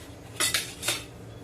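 A knife cuts into washed kokum fruits, giving three short, crisp metallic clicks and scrapes close by against a quiet background. No one speaks.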